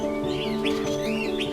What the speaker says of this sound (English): The Fiery-Browed Starling, or Anodes erythrophorus, also known as the Fiery-Browed Mina